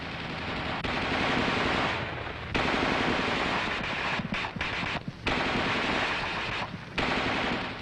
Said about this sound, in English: The gunner continues to fire in 20 to 25 round bursts until he receives the command, Target, cease fire.